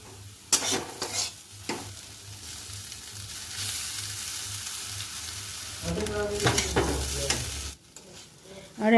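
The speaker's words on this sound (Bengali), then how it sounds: "আর এখন তো বোঝাই যাচ্ছে আজকে আমাদের রাত্রের জন্য বানাচ্ছি ভাত ভাজা।" Fried rice with vegetables and egg is stir-fried in a kadai, giving a steady close sizzle with scraping stir strokes that grows louder and busier near the end before briefly dropping off.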